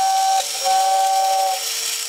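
A 1960s Sonic train robot toy lets out a steady air-driven whistle, a bright sustained tone over breathy hiss that dips briefly and resumes, running continuously for about two seconds.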